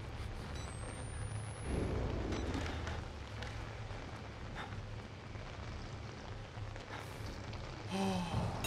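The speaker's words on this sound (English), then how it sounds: "Wait, how's it still raining underground?" Steady rain pouring in the horror game Outlast, a dense continuous hiss with low rumbling beneath and a brief rising whistle-like tone early on; no one speaks.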